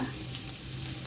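Ginger sautéing in a pan for chicken tinola gives a steady, close sizzle with a low hum underneath, with no talking.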